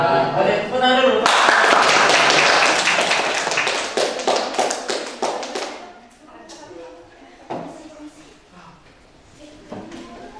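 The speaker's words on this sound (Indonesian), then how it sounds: "Boleh tepuk tangan dulu." A classroom of students applauding together after a group presentation, a dense burst of clapping that starts loud and thins into scattered claps, with a teacher's voice speaking over the tail.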